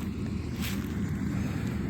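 A combine harvester runs in a field out front, a steady low engine rumble mixed with strong wind buffeting the microphone, continuous throughout with no talk.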